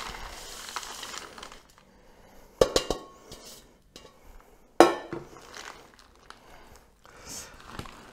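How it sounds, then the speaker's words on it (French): Chopped hazelnuts and chocolate stirred together in a bowl for cookie dough, with a few sharp clinks and knocks of a utensil against the bowl between quieter scraping, in a quiet kitchen. "on mélange donc les noisettes avec le chocolat"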